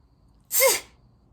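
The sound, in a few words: sneeze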